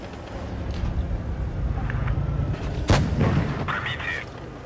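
Tank cannon blasts boom in World of Tanks Blitz between an Object 268 and a Foch 155, one loud shot standing out over a rumbling engine and battle bed.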